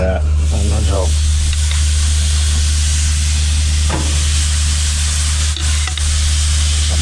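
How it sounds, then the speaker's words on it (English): Big marinated steaks sizzle on a grill with a steady, loud hiss that runs unbroken throughout, and a brief voice is heard near the start. "Look at that. sound of the sizzle, man."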